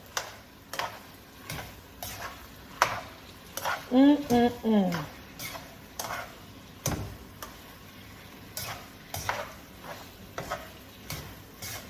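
A spatula scrapes and taps against a pan of sizzling beef, broccoli and onion stir fry, making a string of sharp, uneven clicks over a faint hiss, close by, while someone talks briefly in the middle.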